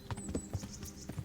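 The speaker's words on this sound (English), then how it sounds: "That is a bit steep for the horse to just go charging down" Hooves of a horse in the video game Kingdom Come Deliverance, a quick uneven run of soft thudding clip-clop beats, fairly quiet and close, with no talking over it.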